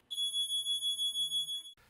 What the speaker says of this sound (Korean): 곧바로 집안 가득 경고음이 울려 퍼지고